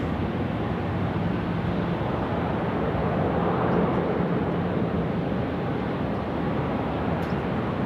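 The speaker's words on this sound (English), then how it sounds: "Next departure today, China Southern 326" A China Southern airliner departs Sydney Airport, a broad, steady jet roar with engine rumble filling the scene at constant loudness, no talking over it.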